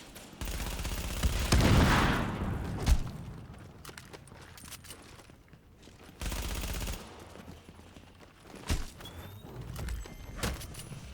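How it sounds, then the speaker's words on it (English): Grenades go off in The Division during a Manhunt mission, one heavy nearby blast followed by a second boom a few seconds later, with quieter gunfire-like pops and rumble between. "Now I'm gonna try to stop up here again and throw nades around the corner."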